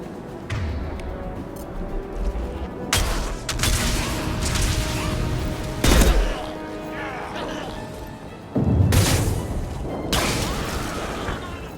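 Heavy gunfire and booming impacts from the video game Mass Effect 2 come in loud bursts and thuds over a steady noisy battle bed, with brief voice-like sounds mixed in.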